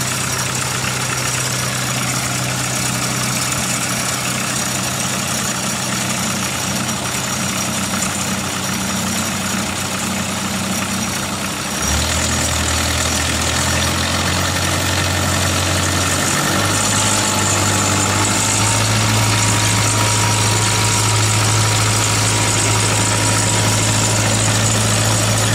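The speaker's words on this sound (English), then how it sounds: "And now I can start the engine." A dredge's diesel engine turns over, catches and settles into a steady idle, loud and close with a constant mechanical drone and vibration, with no voices.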